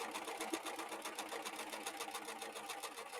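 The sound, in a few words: Husqvarna Viking S100 sewing machine attaching beads with pearl foot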